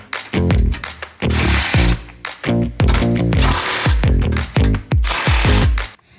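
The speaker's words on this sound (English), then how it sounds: "I'm gonna go ahead and finish up securing the winch plate to the frame. And for that, I'll be using a 16mm socket." Winch plate nuts on a Jeep Wrangler JL or Gladiator Rubicon get tightened with a 16mm socket on an impact wrench, which gives loud, rapid hammering bursts in quick succession with brief pauses between them, close by.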